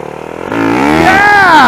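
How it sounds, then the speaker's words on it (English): An enduro motorcycle on a steep off-road uphill revs up close by, its engine pitch climbing steadily over a couple of seconds after a quieter idle. "spinning the bike around on a dime as you traverse a steep uphill"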